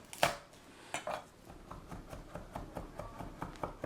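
A knife finely mincing garlic for a tomato salad, with rapid, steady chopping taps on a cutting board, close and clear, preceded by a few sharper knocks at the start.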